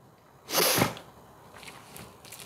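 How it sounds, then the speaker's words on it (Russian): A single sharp human sneeze bursts out close and loud indoors, a brief explosive blast, followed by quiet room tone with a few faint rustles. "Просто когда я начинаю чихать, я никогда не могу остановиться на одном разе."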